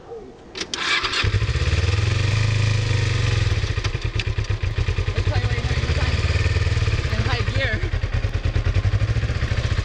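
A Kawasaki Ninja 250R motorcycle engine starts and settles into a loud, steady, slightly uneven idle, its throbbing pulse close by as people talk over it.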